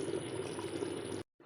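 Water poured into a pot of Hyderabadi mutton marag, a steady close splashing stream lasting over a second before stopping abruptly.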